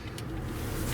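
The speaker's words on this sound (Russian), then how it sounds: "Все, быстро в машину. Уезжаем с этого проклятого места." A car engine runs steadily at close range as the vehicle pulls away at night, a continuous low hum and rumble with no voices.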